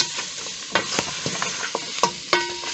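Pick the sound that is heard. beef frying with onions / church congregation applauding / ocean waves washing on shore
beef frying with onions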